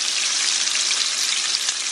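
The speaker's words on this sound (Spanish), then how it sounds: "Con unos chilitos que estamos poniendo a dorar también" Small chilies fry in hot oil in a pan, a dense continuous sizzle heard close up and steady, with no talk over it.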